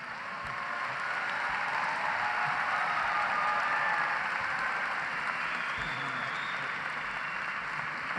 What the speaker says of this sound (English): Please join me in a round of applause for our mechanical engineering graduates